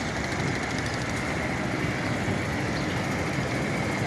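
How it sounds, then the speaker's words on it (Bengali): Trawler boats on the Buriganga river near Keraniganj: a constant, loud engine drone and rumble with broadband wind-like noise, steady throughout with no talking. "এই ট্রলারগুলো যাচ্ছে, দেখো।"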